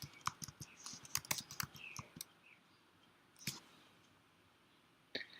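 Close, quiet clicking of keys typed on a computer keyboard comes in a quick burst of taps during the first two seconds, then a couple of isolated clicks follow after a pause, with no talking.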